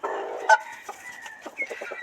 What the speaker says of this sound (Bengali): খুবই সুন্দর দেখতে খুবই ভালো লাগার মতো মোরগগুলো খুবই ভালো লাগে আমার কাছে